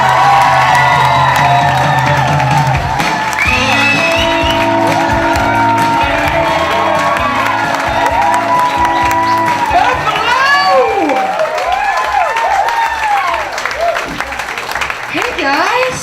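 Comedy club audience in Buffalo cheering, whooping and applauding loudly as a comic is introduced, with live music playing under the crowd and a voice over a microphone near the start.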